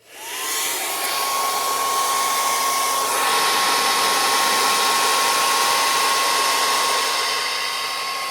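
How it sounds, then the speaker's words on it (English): A hair dryer switches on and blows with a steady, loud whirring whine that continues without pause, heating a Subaru WRX STI door decal. "Hit it with a hairdryer."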